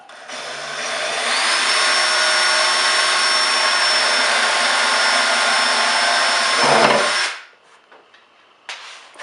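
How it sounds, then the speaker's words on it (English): A power drill boring small pilot holes for a subwoofer install runs loud and steady for about seven seconds with a constant high whine, then spins down and stops, leaving near silence with a brief faint knock at the end. "start with a small bit to use as your pilot hole and pre-drill all of them"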